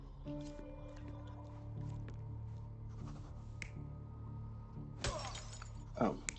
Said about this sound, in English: worker smashing a bottle over the trader.